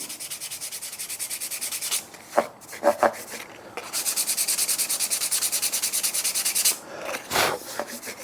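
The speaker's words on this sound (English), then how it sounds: "Then you can go to say a 240, I think this is 240, and just lightly sand over the top." Carved wood is lightly sanded with 240 grit sandpaper in quick rhythmic back-and-forth rubbing strokes, close and clear, pausing briefly in the middle before the rasping resumes.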